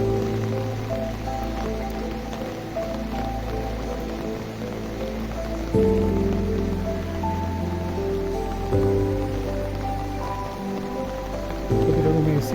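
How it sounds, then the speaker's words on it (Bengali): Rain falls steadily at a resort in Cox's Bazar, a close, continuous patter on surfaces that holds throughout, with low background hum rising in brief steps and no clear talk. "বৃষ্টি পড়তেছে।"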